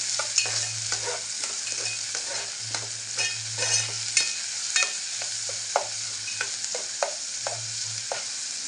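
Tomato and onion sautéing in Malvani masala with hing in a pan, a constant bright frying hiss with repeated scraping stirs of a spoon, close and steady with no voices.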